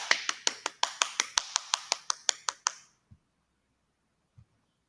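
About a dozen sharp, evenly spaced claps from a small group of students in a Quran lesson on Surah Al-Alaq, ringing out loud and close for nearly three seconds, then stopping, with two faint soft knocks afterward.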